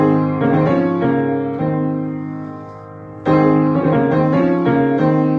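Sustained piano chords with moving inner notes, played cleanly and close, with a brief softer passage before the chord strikes again strongly.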